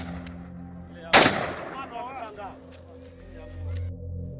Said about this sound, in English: When he still does not stop shooting, they call out again